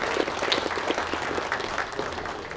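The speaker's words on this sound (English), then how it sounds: "Let's give ourselves a round of applause." Athletes at the 2024 Mr. & Ms. Olympia meeting applaud themselves, a loud, dense round of clapping from a roomful of people that continues steadily throughout.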